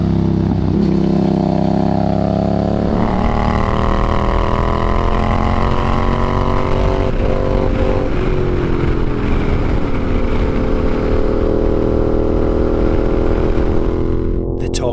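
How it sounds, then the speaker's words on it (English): A Yamaha Ténéré 700 (T7) with a shorty silencer runs steadily on switchback roads, its engine a loud, continuous drone with shifting pitch as it rides, close and without talk. "Motor came to life with that shorty silencer, and with less weight, it just effortlessly breezed through the turns."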